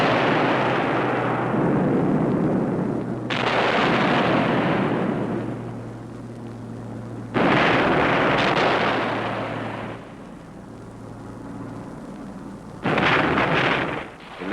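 Bombs bursting in a WWII air raid on Cassino, Italy, a continuous roar of heavy explosions rising and falling in loud rumbling waves, as on an old archival film soundtrack.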